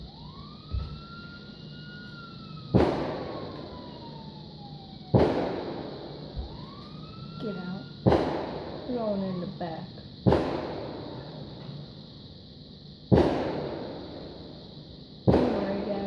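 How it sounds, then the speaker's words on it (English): Fireworks bursting in GTA 5 Online, seven or eight sharp loud cracks spaced a few seconds apart, with whistling rockets rising before some blasts and a constant background hum; a voice speaks briefly. "Don't worry, guys, it's just fireworks."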